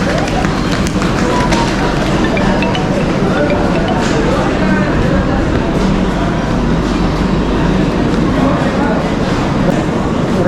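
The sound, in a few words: railway station ambience with train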